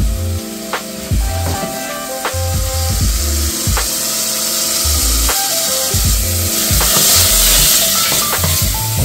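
Meatballs for soup frying in a pan with vegetables, a loud close sizzle broken by repeated scraping and stirring knocks in an uneven rhythm, with no talking.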